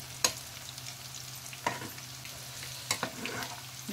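Coriander vadi (kothimbir vadi) shallow-fry in a pan, a steady low sizzle punctuated by three sharp clinks and hisses as the pieces are turned with a slotted spoon, close and without speech.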